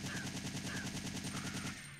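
Rapid video game gunfire rattles continuously for two seconds, dense machine-gun bursts and shots layered loudly without pause, tapering slightly at the end.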